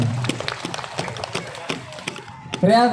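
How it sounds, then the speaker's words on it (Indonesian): Lively applause for a children's performance at a santri parade in Tuban, with dense clapping from a crowd and a voice rising over it at the end. "tepuk tangan yang meriah dari tampilan adik-adik kita"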